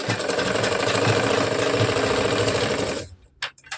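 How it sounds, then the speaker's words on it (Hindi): A sewing machine stitches the lining of a katori blouse, giving a loud, steady mechanical whir for about three seconds before stopping, followed by a few brief faint clicks. "इसके बाद अस्तर पे सिलाई चलाना है"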